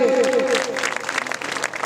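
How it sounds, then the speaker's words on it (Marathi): An audience at a village felicitation during a meditation-centre inauguration claps steadily and fairly close for a couple of seconds, with a voice talking over the applause. "आपण टाळ्या वाजवल्या पाहिजे"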